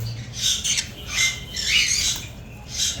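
Conure and ringneck parrots at a crowded bird market in Mirpur squawk in repeated shrill, harsh bursts, several birds calling over one another close by with a low background hum and no talk.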